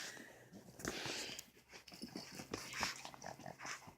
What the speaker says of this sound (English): My dog is like having a ball.